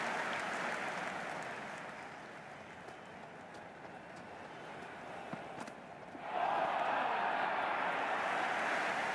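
A virtual stadium crowd in the cricket game Cricket 26 roars through an England vs Australia T10 finish under a closed roof, with a broad steady wash of cheering that dips midway and then surges louder for the final few seconds.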